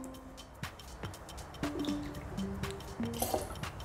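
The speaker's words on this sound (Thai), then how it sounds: "ต่อด้วยน้ำส้มนะครับใช้75 ml ครับ" Orange juice pours into a cocktail shaker while a gin and juice is mixed. A quiet, close trickle and splash comes with a few light drips and glassy clinks, and there is no talk.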